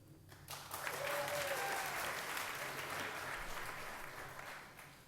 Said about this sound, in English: This is where we applaud,